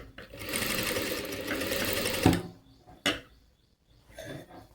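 A sewing machine stitches a work blouse in one continuous whirring run for about two seconds, then stops. A sharp click follows, and later a short, faint burst of mechanical noise.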